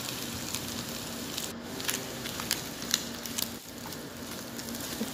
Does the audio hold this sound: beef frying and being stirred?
yes